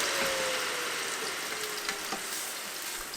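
Bacon-wrapped, mozzarella-stuffed chicken breasts sizzle steadily inside a Ninja Foodi Grill XL running at 390 degrees, a dense, continuous frying hiss with faint crackles and no voices.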